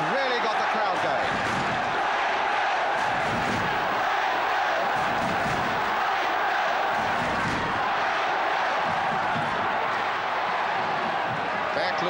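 A football crowd at a 1975 Burnley match keeps up a loud, restless din of voices and shouts after a free kick is awarded, steady throughout the clip with commentary over the top.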